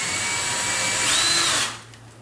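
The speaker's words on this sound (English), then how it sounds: "and he's drilling the pilot hole now." A power drill bores a pilot hole through an outside wall while a high-velocity air conditioning system is installed, giving a steady, close whirring grind that rises slightly in pitch before winding down and stopping near the end.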